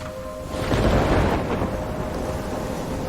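A thunderstorm in the video game Life is Strange: a deep, loud rumble of thunder swells after a moment and rolls on under a steady wash of heavy rain, with no voices.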